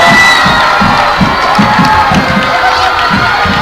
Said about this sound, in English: You can hear the crowd in the background going ballistic.